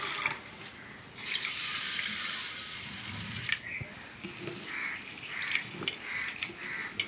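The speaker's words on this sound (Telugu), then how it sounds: "నీళ్ళు పోసి ఒకసారి కడిగేసుకుందాం" Water pours and splashes over rice and black gram being washed in a bowl, a soft running gush that swells and then fades into lighter sloshing, with faint birds calling far off.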